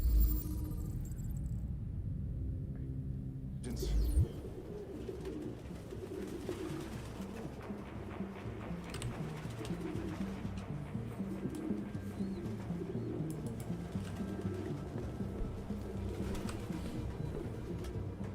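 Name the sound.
pigeons cooing, from video game Detroit: Become Human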